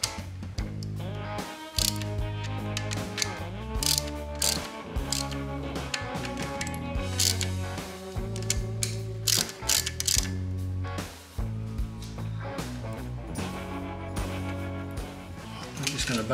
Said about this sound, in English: you start snugging these bolts up